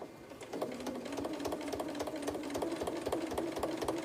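A quilting machine stitches through three layers of wadding and about ten layers of fabric, making a rapid, even run of needle clatter that starts after a brief pause and keeps going at a steady, close pace with no talking.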